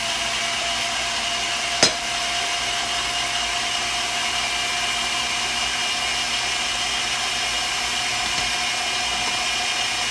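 An electric mixer whipping egg whites into meringue for an old-school pineapple cream pie, a steady close whirring drone with a single sharp knock near the start, no voices.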